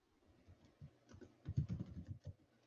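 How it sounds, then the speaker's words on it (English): Quick, light keystrokes on a computer keyboard, soft and close, pattering in an irregular burst as a message is typed into a chat window. "I'm just typing that into the chat so people can see it."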